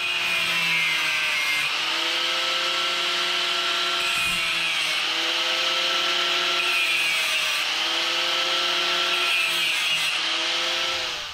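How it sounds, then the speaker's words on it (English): A power tool cuts through a seized nut on a Johnny joint from an FJ Cruiser rear 3-link suspension. It makes a loud, continuous grinding whine that rises and dips in pitch over several passes, with a brief pause partway through. "I'm gonna see if I can save this Johnny joint by cutting through this nut"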